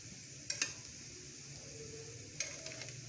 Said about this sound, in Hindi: एक बार और पलट लूँ इनको ताकि थोड़ी सी दूसरी साइड भी इनकी फ्राई हो जाए